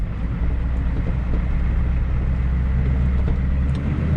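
A 1985 Ford F-250 diesel truck drives along a bumpy road, its engine a steady low rumble with road and cab noise, continuous and fairly loud throughout with no talking.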